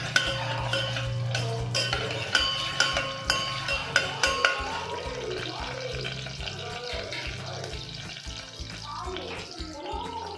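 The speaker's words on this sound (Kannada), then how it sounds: "ರೆಡ್ ಚಿಲ್ಲಿ, ಹಾಕ್ಕೊಂಡು ಚೆನ್ನಾಗಿ ಫ್ರೈ ಮಾಡ್ಕೊಳ್ಳಿ" Red chillies and curry leaves frying in a pan for Andhra-style spinach dal, with crackling sizzle and a run of regular spoon clinks while a voice talks over the cooking.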